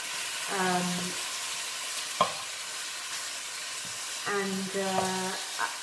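Braised Chinese pork belly is stirred in a pan, a low sizzle with a few sharp utensil knocks, while a voice sounds briefly over the cooking noise.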